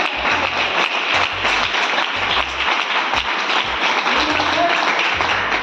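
Loud, sustained applause from a seminar audience after a call for a big round of clapping, dense and steady throughout, with a low rhythmic thump repeating beneath it.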